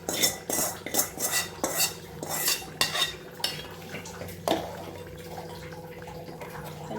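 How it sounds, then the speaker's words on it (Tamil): A metal spoon clinks and scrapes against a pot as okra is tipped into simmering tamarind curry and stirred. The knocks come in quick bursts and fade toward a quieter bubbling, with no speech. "இப்போ இந்த டைமில் நம்ம இந்த வெண்டைக்காய் போட்டு விட்டுடலாம்."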